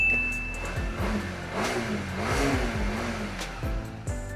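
Honda CBR motorcycle engine idling close by, then revved several times, its pitch rising and falling smoothly between blips, with no talk.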